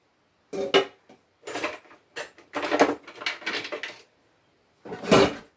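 Utensils clatter and scrape against a pot as spaghetti sauce is mixed in, a series of close, irregular metallic knocks and bursts separated by short pauses.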